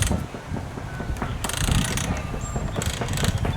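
A broom-making machine clicks and ratchets as its knob is turned to tighten twine, a close mechanical run of repeated ticks and creaks with a steady grinding bed beneath.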